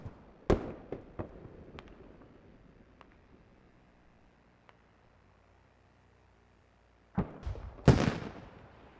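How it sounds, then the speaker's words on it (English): Grenade launcher fire in the game Squad: sharp distant pops and cracks, a few scattered early, then a louder cluster of thumping blasts near the end, over a quiet background. "do you have a GL shooting over here?"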